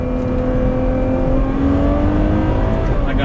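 A Ferrari 812 Superfast V12 sweeps up through the revs to about 8,000 rpm and holds there, a loud, sustained wail that climbs steadily from the cockpit with no talking.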